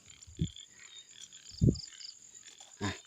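Frogs croak at night in rural Thai countryside, three short low croaks spaced about a second apart, over a steady bed of insect and cricket chirring.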